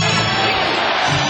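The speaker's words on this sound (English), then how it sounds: "Crowd chanting defense." A basketball arena crowd roars at a Lakers game, a dense, loud wash of voices filling the brief moment with no distinct chant rhythm.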